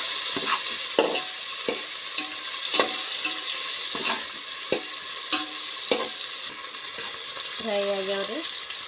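Tomatoes fry in a pan with a steady, close sizzle, broken by regular scraping stirs of a spoon and a short run of beeping tones near the end.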